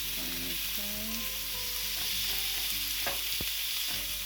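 Peppers and curry leaves frying in a pan, a steady close sizzle running throughout with a few sharp stirring clicks and scrapes, no voices.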